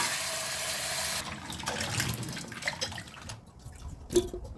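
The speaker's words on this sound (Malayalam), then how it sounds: "നമുക്ക് നല്ലപോലെ വെള്ളത്തിൽ ഇത് കഴുകി വാരിയെടുക്കാം." Food rinsed by hand in water for a Kerala dish, with a steady rush of running water at first, then sloshing and splashing with a sharp drip near the end.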